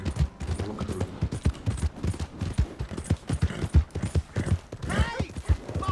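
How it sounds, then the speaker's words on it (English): Horse hooves clip-clop in Red Dead Redemption 2, a steady run of close hoofbeats with a brief whinny near the end, under a voice. "Hey, my horse!"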